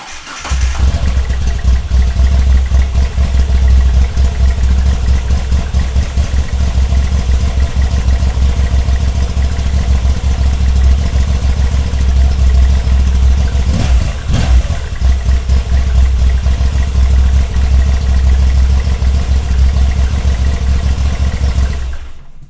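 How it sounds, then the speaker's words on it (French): A Yamaha V85TT motorcycle engine runs steadily, close and loud, with a deep, slightly uneven throb that persists throughout, no voices present. "On entend cette instabilité du moteur."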